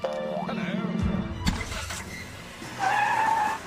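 A stunt car lurching forward in jerky kangaroo-hop starts, engine revving unevenly with a tire squeal and a sharp jolt, partly under talk.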